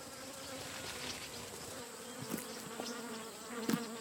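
Flies and other insects buzz close around zebra droppings on the savanna, a continuous droning hum with a few louder passes near the end.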